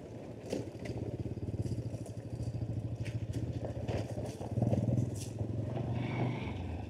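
A group of four motorbikes rides a deserted off-road trail through jungle and hills near Sreemangal, with a steady nearby engine drone, rumbling tires and some clattering over the rough ground, rising a little toward the end.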